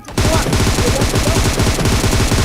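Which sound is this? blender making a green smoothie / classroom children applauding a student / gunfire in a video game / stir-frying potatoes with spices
gunfire in a video game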